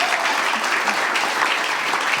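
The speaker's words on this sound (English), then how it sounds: "I think it deserves a clap, doesn't it?" Audience applause at a talk, warm and steady clapping that fills the whole moment at a fairly loud level.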